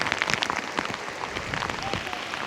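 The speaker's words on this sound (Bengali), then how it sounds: "আর দেখুন কি পরিমাণে মুষলধারে বৃষ্টি হচ্ছে" A heavy monsoon downpour beats down outdoors beside a field where current nets are set for fish, a dense, continuous patter of raindrops striking close by.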